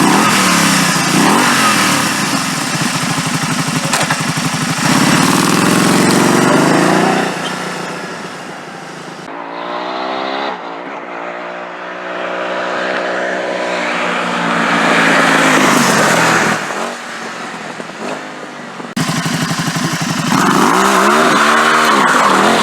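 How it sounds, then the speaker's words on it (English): Can-Am Spyder three-wheeler fitted with an RLS Crusher aftermarket exhaust, revving loudly in repeated rising and falling bursts with brief pauses between, close and with no one talking. "So let's do some clips of the aftermarket exhaust I went with."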